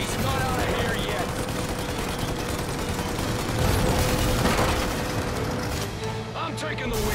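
Gunfire in the Mafia Definitive Edition video game: a dense, sustained burst of rapid shots and loud crackling, continuous throughout, with voices shouting under the din.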